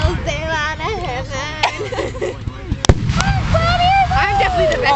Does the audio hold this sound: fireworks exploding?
yes